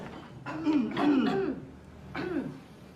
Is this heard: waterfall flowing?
no